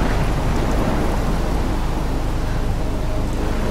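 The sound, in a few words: thunderstorm with rain and wind in a video game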